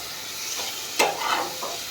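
Fish frying in hot oil in a home kitchen, a steady close sizzle with a sharper burst of spattering as the fish goes in, then continued crackling.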